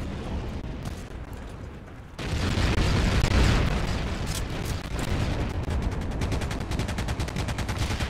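Rapid gunfire and explosions from the video game Heroes & Generals, a dense, loud, sustained barrage that jumps sharply in intensity partway through, with repeated shots crackling continuously to the end.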